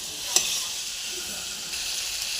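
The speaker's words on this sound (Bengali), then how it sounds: "মশলা, আলু, ফুলকপি দিয়ে ভালো করে কষিয়ে নেব।" Spices, potato and cauliflower stir-fried in a pan for an egg-fritter curry give a steady, close hiss of sizzling oil, with one brief scrape of the spatula near the start.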